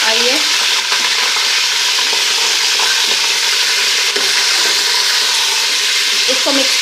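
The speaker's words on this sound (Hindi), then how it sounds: "गर्म घी था तो गोश्त की आवाज़ जो है वो ज़्यादा आई है।" Pieces of meat sizzle and fry loudly in hot ghee for an aloo gosht dish, giving a steady dense hiss with faint stirring scrapes throughout.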